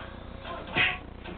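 A kitten's short meow in the Kitten Cannon video game, a single brief cry rising out of low background game noise.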